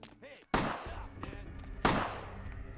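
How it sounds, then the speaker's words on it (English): Two sharp, loud gunshot blasts in a vampire video game, each with a short ringing decay, about a second apart over faint background. "keep shooting me"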